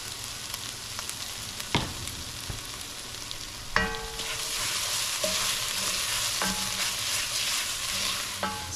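Tomato paste sizzles steadily in a hot pan for a braised beef tenderloin, with a spoon scraping and clinking as it is stirred and a few sharper knocks against the pan, with no voices.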